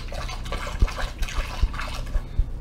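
Cold water is poured into a Mr. Beer fermenter to top up a hot blueberry cider mix: a steady gurgling, splashing stream with small rhythmic glugs and drips throughout, close and moderately loud.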